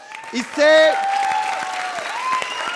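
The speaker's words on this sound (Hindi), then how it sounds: "जोरदार ताली बजाओ" Applause from a studio audience at an Indian TV comedy show, a steady clatter of clapping that sits partly under a speaking voice and a few music-like tones.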